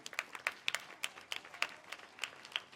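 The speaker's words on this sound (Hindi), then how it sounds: "आप लोग बच्चे लोग जो ताली बजाते रहें, ताली की गड़गड़ाहट थमना नहीं चाहिए।" Children clap at a primary school award ceremony, a fairly faint, uneven patter of scattered claps from a small group, continuing steadily without pause.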